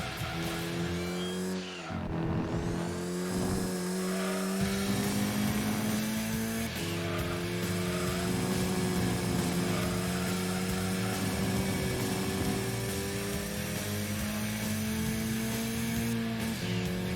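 Mitsubishi Evo VI RS in the Gran Turismo 2 racing game, engine screaming at high revs and bouncing off the rev limiter, with a brief dip and tyre squeal before a steady loud whine resumes.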